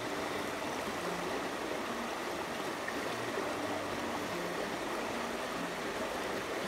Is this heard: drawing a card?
no